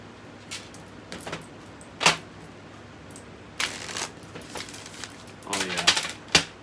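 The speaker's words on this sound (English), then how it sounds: "I'm going to do one more shuffle." Tarot cards being shuffled by hand, a few separate riffling bursts with short pauses between them, close and fairly crisp, with soft handling noise in the gaps.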